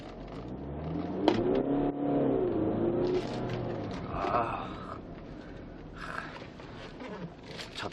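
A used Audi Q5 2.0 TDI quattro diesel SUV accelerates hard on a test drive; the engine note climbs and swells steadily from inside the cabin, then settles into a sustained drone with road noise.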